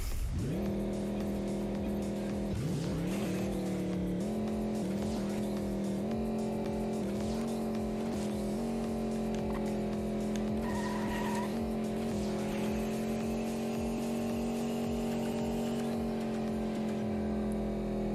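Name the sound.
racing car with nitrous in a video game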